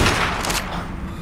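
Gunfire in ARK erupts in a loud, dense burst of overlapping shots and then decays into a noisy rumble.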